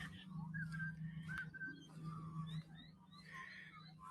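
Small birds chirp and whistle in short bright phrases in a mangrove at Careel Bay, moderately distant, over a low steady hum of background noise.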